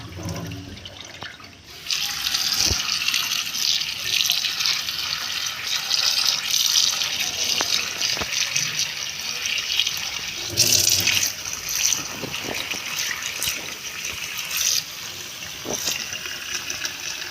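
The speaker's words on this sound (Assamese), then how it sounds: "এয়া বকফুলৰ পাহখিনি মই ধুই লৈছোঁ।" Heron flower petals are washed under a running kitchen tap, water pouring steadily for about fifteen seconds after a short quiet start, with occasional splashes and handling sounds and no speech.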